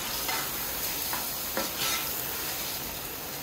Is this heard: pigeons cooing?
no